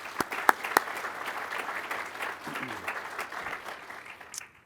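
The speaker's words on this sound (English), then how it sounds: "please, for our military members." Audience at a military pilot training class graduation applauds the military members, with steady crowd clapping, a few loud close claps near the start, and the applause tapering off toward the end.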